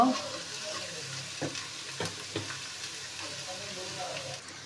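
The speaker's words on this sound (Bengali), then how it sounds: "আলুটাকে দিয়ে দিয়েছি, ভালো করে নেড়ে নিয়ে" Potato pieces sizzle in hot oil in a pan while being stirred, a soft continuous frying hiss broken by a few light scraping knocks of the spoon.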